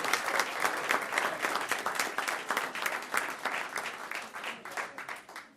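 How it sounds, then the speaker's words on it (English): An audience at a school board meeting claps steadily for several seconds, a dense even patter of many hands in an indoor room that slowly tapers off. "Let's recognize them with a nice round of applause."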